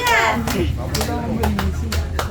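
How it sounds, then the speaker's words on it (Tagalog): Hands clap repeatedly in uneven bursts during a family Christmas party game, mixed with constant overlapping talk and children's voices close by. "papalakpak ka din habang nag-iisip para makaisip"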